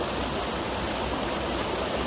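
A rushing waterfall at a remote, unnamed falls roars as a dense, steady wash of water noise, loud and unbroken, with no voices.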